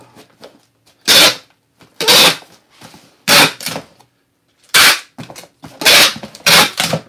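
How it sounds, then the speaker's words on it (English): Packing tape ripping off a dispenser while a cardboard box is sealed indoors, several loud rasping pulls of about a second each with short gaps and small rustles between. "does the sound of the tape drive you guys crazy?"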